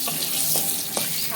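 Two bay leaves and three or four dried red chillies sizzle in hot oil, a steady close frying hiss with faint stirring scrapes, no voices.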